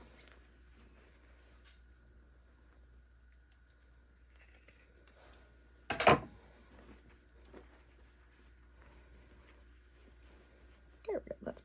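Scissors snip through the fabric of a pair of shorts being turned into a skirt, giving one short burst of cutting in a mostly quiet room, followed later by faint handling noises.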